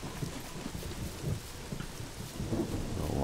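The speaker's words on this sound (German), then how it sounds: "Dass ständig Regen kommt." Steady rain hisses over low rolling thunder in the survival game SCUM as night falls. The downpour sounds close and continuous and swells slightly toward the end, with no voices.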